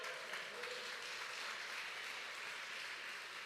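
A church congregation applauds in praise, a steady, dense wash of clapping that fills the space without pause and carries no speech over it.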